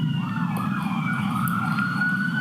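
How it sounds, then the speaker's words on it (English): Emergency vehicle sirens wail past outside a courtroom, a steady rising and falling tone sweeping continuously under a low background hum, moderately distant and unbroken across the moment. "Let's wait for the sirens to pass."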